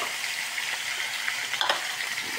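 Pork for adobo, already salted, fries in a pan with a steady close sizzle and crackle throughout, with a brief burst of louder spitting near the end and no voices.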